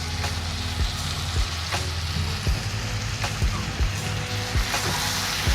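Onion rasam with bitter gourd curry cooking in a pan, a steady dense sizzle and hiss of frying oil with low rumbling thumps, continuous and close.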